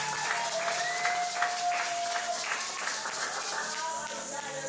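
A church congregation applauds steadily throughout, a dense wash of clapping from a crowd filling the room, with a faint sustained tone and some voices underneath.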